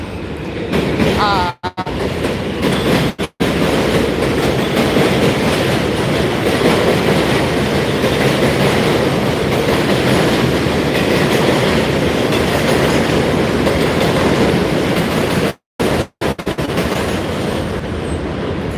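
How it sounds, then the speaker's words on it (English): Loud, continuous rumble and clatter of a train passing close by, sustained and droning throughout, with a couple of brief cutouts. "Sorry, had to let the train go by again."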